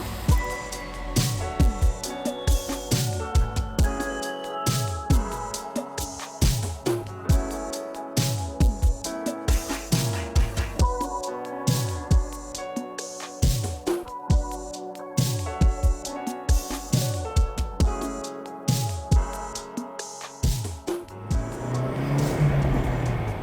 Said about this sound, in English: Now let's take it back out on the road and get the gears revving